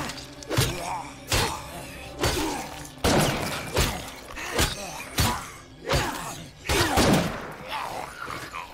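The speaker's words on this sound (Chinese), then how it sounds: "直接在这种夜晚的时候开枪真的是超大声的" Gunfire at night in the zombie survival game State of Decay 2: about a dozen loud, sharp shots at uneven intervals, some in quick pairs, with cracking tails that ring out over a low background.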